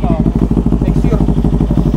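An Easyride 150N motorcycle engine running nearby with a loud, even, rapid pulsing beat, like a steady idle.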